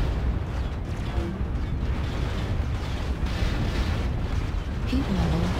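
Incoming missiles slam into a heavy mech in a video game, producing a steady barrage of booming explosions over a dense, continuous rumble at moderate volume.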